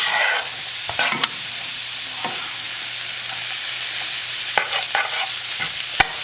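Vegetarian manicotti filling cooking on a stovetop over medium heat, a loud steady sizzle with intermittent scraping stirs and a few sharp utensil taps against the pan, no voices.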